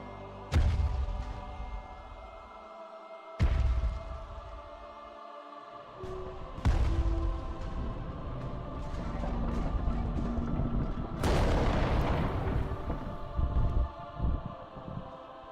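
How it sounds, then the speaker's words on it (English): The Titan in the animated Warhammer 40,000 film Helsreach makes deep, heavy booming impacts, four big thuds spaced a few seconds apart. Each rings out into a rumbling, metallic sustained roar. "God, I love the sound effect of the Titan."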